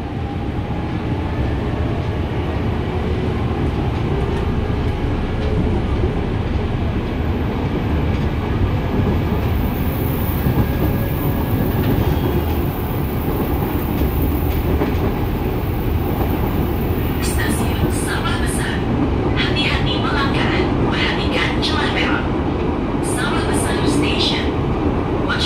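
KRL commuter train running on rails between Cawang and Kota in Jakarta, a steady loud rumbling roar from inside the carriage throughout, with a high whine and scattered brief clicks and rattles near the end.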